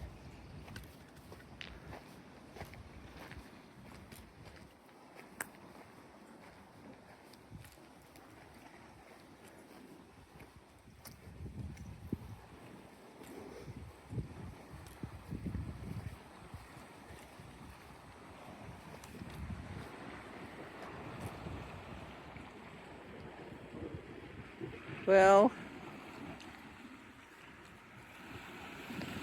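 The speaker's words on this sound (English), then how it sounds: "at least I can enjoy the waves crashing" Ocean waves washing against the coast at Elsie Bay at sunset, a soft, distant surf rumble mixed with gusts of wind buffeting the microphone, with a brief sharp noise near the end.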